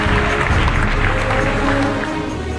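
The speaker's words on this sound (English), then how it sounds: "A very big round of applause" Applause for an award winner at an ICT talent competition ceremony in Zambia: a dense, steady crowd clapping that fills the whole stretch, loud and close, fading slightly toward the end.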